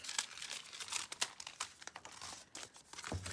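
A paper bag with its bottom trimmed off is folded in half, giving close, quiet crinkling and papery crackles in irregular bursts with short creases and rustles throughout.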